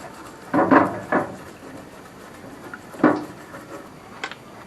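Carbon being scraped out of the piston ring grooves of a Holden Torana UC 173 red engine during a rebuild; a few short, faint scraping strokes sit close by over quiet background hiss.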